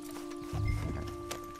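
Horse hooves clop in the Red Dead Redemption 2 video game: a few dull, close thuds and a brief scuff over a steady, droning musical background.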